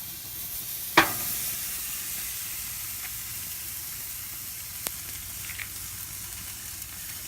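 Porterhouse steaks sizzle on a gas grill in a steady close hiss, with a sharp clatter near the start and a few faint clicks and taps later.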